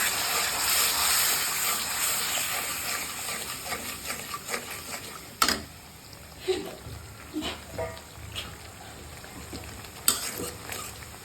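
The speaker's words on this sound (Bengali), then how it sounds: "ভালো করে মশলাটা কষানো হোক" Spice paste with a splash of water added, frying in oil for a taro curry, giving a steady sizzle that eases off. Scattered scraping stirs and spoon taps sound close by, with no talk.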